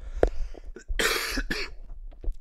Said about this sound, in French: je vais tousser un petit peu pendant cette vidéo